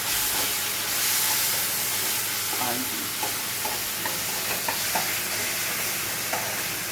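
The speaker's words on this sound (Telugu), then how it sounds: "మామిడి తురుమును దీంట్లో వేసి మంచిగా నూనెలో వేగించాలి." Grated raw mango frying in a tempering of hot oil, a steady close sizzle and hiss with small pops and spatula scrapes as it is stirred, continuous and fairly loud.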